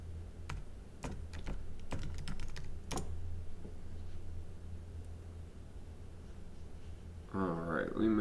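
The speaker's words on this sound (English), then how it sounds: "So let's go ahead and type that in." Clicking keystrokes on a computer keyboard while setting up a Trezor hardware wallet, quick irregular taps in short bursts, fairly close but quiet over faint room hum.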